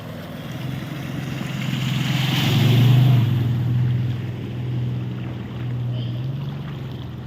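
Flood water rushes along a residential colony lane like a canal, a continuous broad wash with a low steady hum beneath it, swelling slightly midway.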